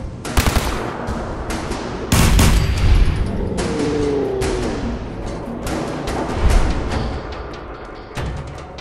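Gunfire in the video game Fallout 4 during a VATS shot, with sharp loud bursts and rapid shots, heavy thumping impacts and a short tonal whine, close and dense over several seconds.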